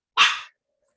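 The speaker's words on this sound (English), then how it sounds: "Sorry for my dog, he's kind of like asking for attention." A dog gives one short, sharp bark, loud and close, then silence.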